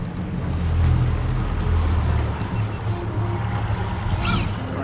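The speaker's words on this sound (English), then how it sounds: "Let's see if I can get this trolling motor to hold us here." A Minn Kota trolling motor runs on a fishing boat, a low steady hum under water lapping and wind, with a faint voice briefly in the background.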